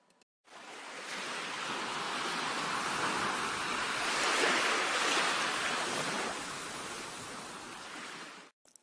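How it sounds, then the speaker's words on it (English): Broad, steady roar of Pacific Ocean waves at sea, swelling to a peak midway and then easing, a continuous wash of surf with no voices. "Four of them float on the Pacific Ocean."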